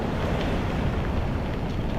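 Big ocean waves break and surge in hurricane-force wind on a stormy beach, a loud, continuous roar of surf and wind buffeting the microphone, with no voices.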